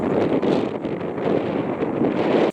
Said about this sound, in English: So it just got insanely windy in the last 5 minutes.